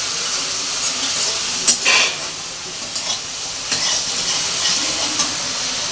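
Spices such as turmeric, cumin, chili and salt fry in a pan of oil, giving a continuous close sizzle broken by several scraping stirs of a spoon, with no speech.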